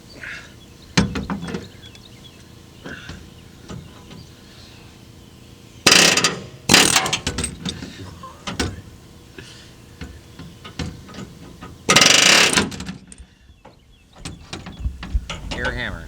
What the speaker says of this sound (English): Air hammer, not easy.